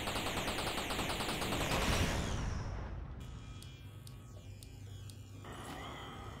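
Gunfire from a weapon in the video game Space Trash Scavenger: a rapid loud burst of automatic shots for about two seconds, then a few sharp separate shots and mechanical clicks over a low hum.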